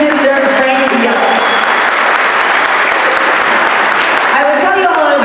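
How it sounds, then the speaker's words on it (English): Loud, steady applause from a crowd at an all-star classic opening ceremony as the Monterey Bay Football Club head coach is introduced, continuous clapping filling the whole stretch with a voice audible over it. "So please, round of applause to Mr. Frank Yella."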